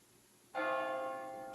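A single bell strike from a Verdin 720 digital carillon, program 813, rings out bright and clear after a short quiet lead-in, then sustains with a slow decay.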